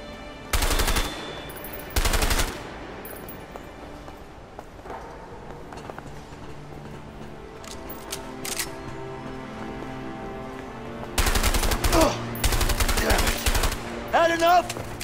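Loud, close bursts of gunfire in the video game A Way Out, two short volleys early, a quieter stretch with ambient game sound, then heavier rapid shots toward the end.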